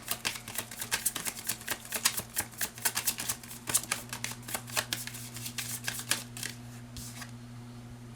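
A tarot deck being handled and shuffled, a quick run of crisp card riffles and flicks up close, fading into quieter handling near the end over a faint steady hum.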